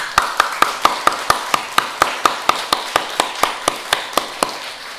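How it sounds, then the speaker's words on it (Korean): Church congregation clapping in unison during a Sunday service, a steady, evenly spaced rhythmic beat of about four claps per second throughout, moderately loud and without speech. "하나님 앞에 영광의 박수 한번 올리겠습니다"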